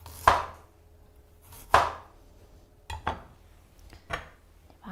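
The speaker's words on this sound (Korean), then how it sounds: "많이는 안 썰게요." Knife chopping karahyang citrus on a cutting board in a home kitchen: four or five sharp, separate strikes spaced about a second apart, close and clear, with a faint clink of dishes between them and no talking.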